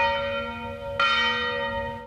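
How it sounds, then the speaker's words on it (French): A church bell in the French village of Gajac rings loud and resonant, one fresh strike landing midway over the long, sustained hum of the previous ring. "les cloches de l'église sonnent de 7h du matin à 10h le soir"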